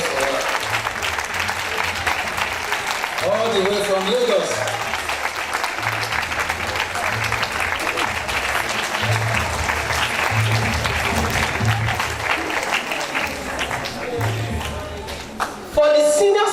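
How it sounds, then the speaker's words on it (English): Sustained audience applause at an official space ambassador scheme launch in Nigeria, steady loud clapping throughout with a voice speaking over it briefly near the end. "A round of applause for her."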